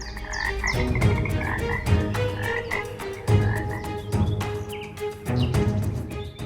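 Poison dart frogs croak in the rainforest in repeated rhythmic bursts, loud and close, with a few faint bird chirps behind them.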